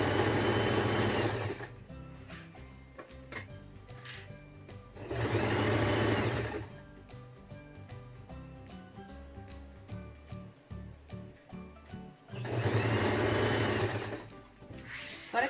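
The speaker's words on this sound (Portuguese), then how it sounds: "Agora que a gente aqui já costurou" Sewing machine stitching around the edge of a summer multi-purpose bag, running in three loud sustained bursts with quieter pauses and handling sounds between them.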